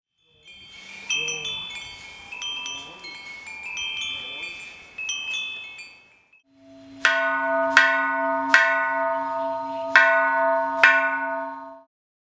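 A temple bell strikes several times in a slow, even series, each ring bright and lingering, after a stretch of fainter chiming, quiet chanting and background sound.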